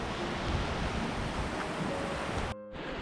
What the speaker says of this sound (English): you can hear the water going underneath